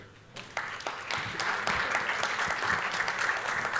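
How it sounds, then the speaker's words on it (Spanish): An audience at an international conference on organized crime and the economy applauds steadily, a dense and fairly close wash of clapping that builds slightly and holds for several seconds, with no talk over it. "Un aplauso para él."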